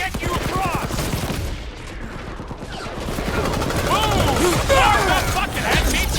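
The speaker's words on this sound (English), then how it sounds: "I'll lay down some cover fire to get you across." Rapid covering gunfire rattles in the Guardians of the Galaxy video game, bursts of sharp shots with a brief lull midway, mixed with whooshing effects and voices.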